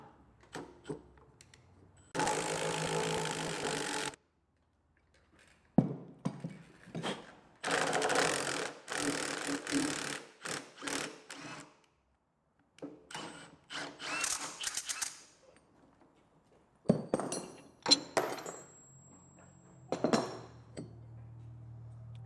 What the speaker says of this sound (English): Alright, I've got a puller set up on this pulley.